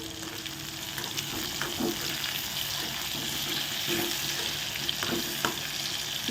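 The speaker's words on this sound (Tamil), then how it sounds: "நல்ல எண்ணெயில் பட்டு பொரியும் போது" Brinjal pieces fry in sesame oil in a pan, giving a steady, dense sizzle with soft stirring scrapes and small crackles throughout, close and fairly loud.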